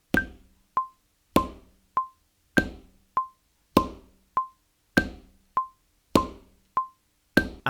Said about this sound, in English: we can add two quarter notes together, creating a half note, otherwise known as a minim, which would sound like this